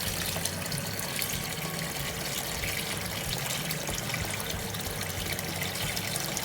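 Water poured over raw meat with vinegar, a steady continuous splashing and trickling that stays even and fairly loud throughout with no talk.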